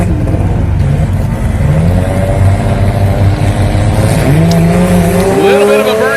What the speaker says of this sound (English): Little bit of a burnout in the Camaro now in.